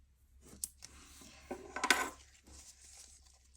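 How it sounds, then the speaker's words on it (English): Small scissors snip a nail form for a wide, fleshy finger pad, a few faint crisp clicks and a short cluster of cutting sounds in a quiet room. "I'm going to just make a little cut with my scissors."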